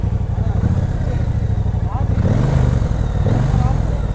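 A Triumph Speedmaster 1200cc motorcycle engine runs close and loud with a throbbing idle and a slight rise in revs, with a voice speaking over the engine.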